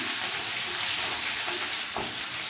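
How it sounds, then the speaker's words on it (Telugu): Green chillies fry in a pan with a steady, dense sizzle that stays close and loud throughout, with no voices. "కొంచెం పచ్చిమిర్చి, కొంచెం వేయించుదాము"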